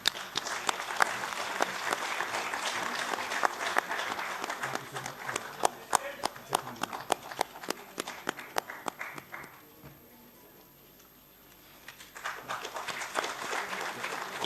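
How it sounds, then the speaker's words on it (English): Ceremony audience breaking into applause during a token-of-regard presentation, a dense wash of claps with sharp individual claps standing out, dipping briefly near the end before swelling again, with a voice speaking over part of it. "A huge round of applause, please."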